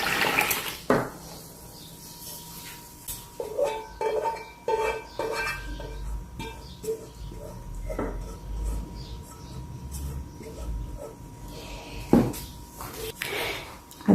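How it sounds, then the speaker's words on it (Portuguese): A milk, yeast and water mixture is poured into flour for homemade bread, with liquid trickling and splashing among clinks of glass and kitchenware over a long stretch, occasional sharp knocks, and no clear talk. "a gente vai pegar essa misturinha com o leite, o fermento e a água e a gente vai despejar aqui"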